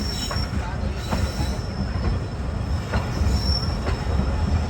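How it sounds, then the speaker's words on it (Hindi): The Khushal Khan Khattak Express rolls onto a loop line at Landhi Junction, wheels grinding and rumbling loudly and steadily with faint high squeal and periodic clacks over the rails. "तो लांडी जंक्शन की लूप लाइन पर आ गई है ट्रेन हमारी।"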